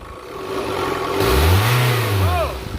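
A Mini Cooper diesel engine with a clogged DPF is blipped in a repair shop. It idles, then surges into a loud, close rev that swells and falls back within a couple of seconds.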